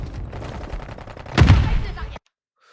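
Rapid gunfire rattles in a Call of Duty Modern Warfare 3 match, a dense burst of shots with one louder blast near the end before cutting off abruptly to silence.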